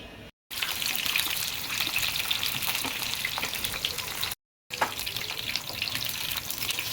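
Chitol fish kofta balls frying in hot oil in a pan, giving a steady, dense crackling sizzle that runs continuously and fairly loud, broken by two brief silent gaps.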